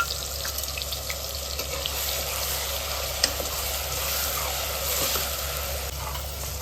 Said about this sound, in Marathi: खोबरं, आलं पण घेतलेलं आहे 1 इंच, लसूण आणि कांद्याचं मिक्सरवर वाटून घेतलेलं वाटण घालत आहे